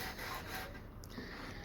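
Wood sanded by hand with 60-grit sandpaper, a short continuous gritty rubbing scrape at close range.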